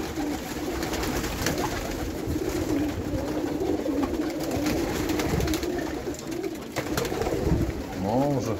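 Pigeons coo inside a pigeon loft, a steady low rolling murmur under constant rustling and shuffling, with one clearer coo rising near the end.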